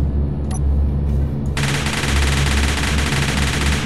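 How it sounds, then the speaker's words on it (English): A spacecraft auto cannon in the Space Engineers game fires a sustained rapid, loud burst of heavy mechanical shots, joined partway through by a sharp hissing roar as the barrage continues. "Auto cannon."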